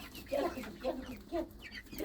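Chickens and young birds in a backyard coop cluck softly in short repeated calls, fairly quiet and close, with low background noise.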